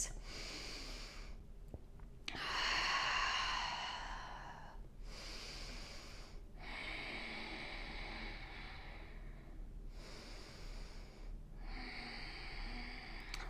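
Slow, steady breathing during a seated yoga twist in a vinyasa flow, a few long inhale-exhale cycles at an even pace, close and soft with brief pauses between breaths.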